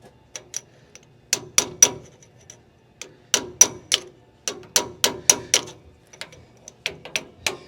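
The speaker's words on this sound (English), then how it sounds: "now we'll hammer these over." Rapid bursts of hammer taps on 1959 Dodge front end metal parts, sharp and ringing, coming in irregular clusters with short pauses between.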